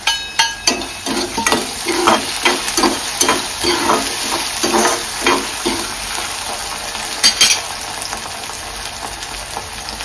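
Onion and tomatoes fry loudly in a pan in a home kitchen, with rhythmic spatula strokes stirring through a continuous close sizzle that slowly settles into a steadier hiss.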